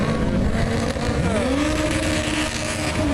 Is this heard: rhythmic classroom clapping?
no